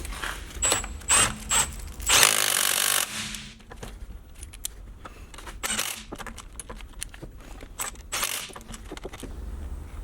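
Metallic clicks and short ratcheting bursts come from a hand tool tightening the differential bolts on a BMW E60 rear end, with intermittent clinks and brief pauses between turns.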